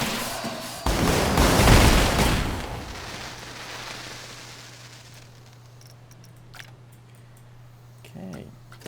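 Fireworks show in Planet Coaster 2, a burst of crackling, booming pyrotechnics that swells loudly near the start then fades into a long dwindling tail with a few sparse pops at the end.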